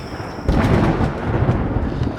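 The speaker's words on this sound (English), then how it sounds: "And there's a storm coming." Thunder from an approaching storm breaks in after a quiet start, becoming a loud, deep, sustained rumble with a hiss like rain over it until the end. No voices are heard.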